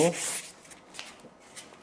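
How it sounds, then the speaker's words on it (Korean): Sandpaper rubbed across a wooden cutting board in a short, close, gritty stroke, followed by fainter scraping. "그래서 되셨으면은 매끄럽게 사포질을 많이 해주세요"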